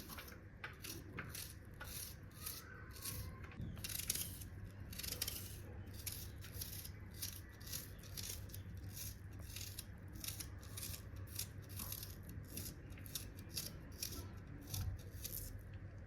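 A knife finely chopping onion on a board for missa paratha, a steady run of quick, crisp taps close by, with no talk.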